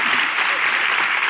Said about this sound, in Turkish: Bir alkış Hande.